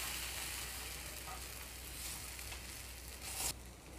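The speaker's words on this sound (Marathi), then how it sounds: "आता मी दुसऱ्या साईडनी पण चांगलं भाजून घेणार आहे." Paneer tikka sizzling steadily in a hot pan as it roasts on its second side, a constant close frying hiss with no talk, a brief louder crackle near the end.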